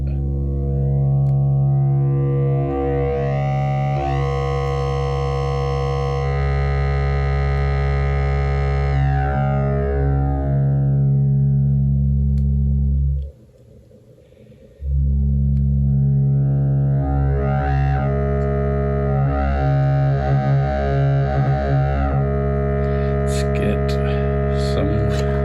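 A Nonlinear Circuits synth module putting out a sine wave as its wavefolder is turned up, a loud buzzing harmonic-rich tone whose upper overtones swell and thin, dropping out briefly before returning brighter and more distorted.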